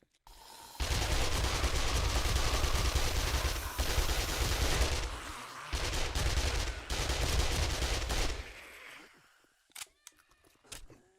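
An SMG fires in the video game 7 Days To Die, long rapid bursts of loud automatic gunfire broken by brief pauses, ending in a few scattered clicks and thuds.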